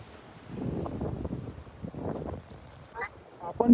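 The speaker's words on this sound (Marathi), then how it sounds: "लाटा बघू शकता किती आहेत तरी पण आपण गेलेलो आहोत होडीवर वारा पण भरपूर आहे" Strong wind buffets a small fishing boat out at sea among waves, making gusty, rumbling bursts that rise and fall, loudest near the end.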